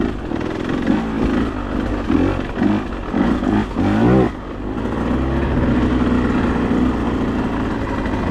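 A car engine revving hard in second gear as the wheels spin on a wet, slick road, loud close bursts of throttle rising and falling several times before settling into a steadier drone.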